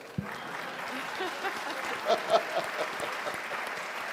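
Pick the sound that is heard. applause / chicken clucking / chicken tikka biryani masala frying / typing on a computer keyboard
applause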